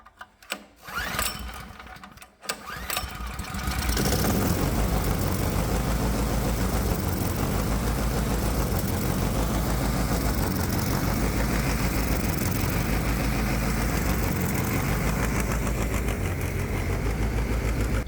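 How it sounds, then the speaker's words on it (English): A 212cc Predator small engine on a homemade fuel injection system starts after a few uneven sputters and then runs steadily with a loud, close, continuous rattling drone that holds through to the end. "So the engine's running"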